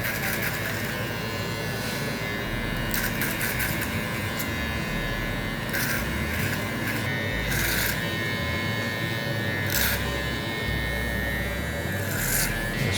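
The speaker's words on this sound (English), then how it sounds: "I'm gonna clipper over comb and set that foundation" Electric hair clippers cutting hair with the clipper-over-comb method during a low taper haircut at the back of the head, a continuous close buzz with repeated brief bright bursts as the blades pass through hair.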